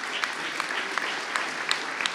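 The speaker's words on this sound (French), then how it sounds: "On peut applaudir Pierre-Yves Bézem." Dense, steady audience applause fills a hall at a regional Chamber of Commerce and Industry awards ceremony in northern France, continuous and even throughout with occasional sharper claps standing out.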